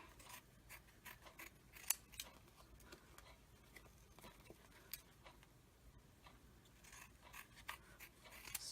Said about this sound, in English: Just trimming up the edges here